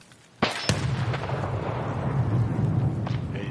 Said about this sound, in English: he's trying to nade me